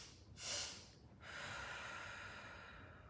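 During a breathwork and meditation session, a person takes two quick sharp inhales through the nose and then a long, audible exhale, close and quiet with no speech.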